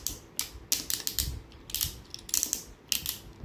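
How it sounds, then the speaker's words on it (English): Crisp ratcheting clicks from the thigh joint of a Legacy Armada Universe Optimus Prime Transformers toy, in several quick bursts of close, sharp clicks with short pauses between them and no talking. "Forward that far with very nice ratchets."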